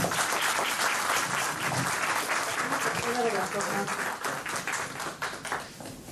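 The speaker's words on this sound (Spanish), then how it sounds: "nuevamente un fuerte aplauso para nuestros ponentes" An audience at a conference session applauds the speakers, a warm burst of clapping with some voices mixed in, thinning out toward the close.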